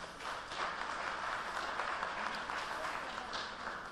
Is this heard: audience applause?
yes